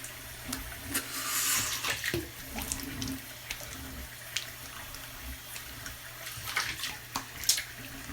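Cold water running from a bathroom tap during a shave, a soft continuous splashing flow with a few louder spurts and clicks, fairly close and quiet, no talking.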